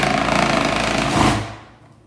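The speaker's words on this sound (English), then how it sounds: "just put it down in my food processor" Food processor grating a block of cheese, a loud steady motor whine with rattling blade chatter that drops away as the machine spins down near the end.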